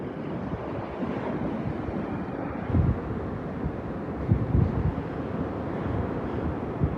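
Surf and wind on the North Naples, Florida shore as Hurricane Elsa passes, a steady broadband rush of waves with wind buffeting the microphone and a few louder gusts, no voices.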